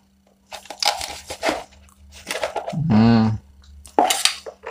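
A blunt knife scrapes and hacks at fish being cut and cleaned, giving crunchy, uneven scrapes and utensil clatter, with one drawn-out squeaky scrape in the middle, close by.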